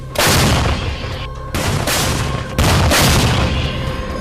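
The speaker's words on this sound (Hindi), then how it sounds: "जेवलिन से भी जोरदार हमले यूक्रेन होवित्जर तोप से कर रहा है।" Ukrainian howitzer fire sounds as three heavy booming blasts about a second apart, each a loud broadband crack with a rumbling tail, with no voices.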